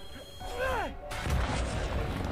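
A bomb in a Spider-Man video game bursts in one loud, close blast after a short whooshing sweep, then a rumbling wash of debris lingers to the end.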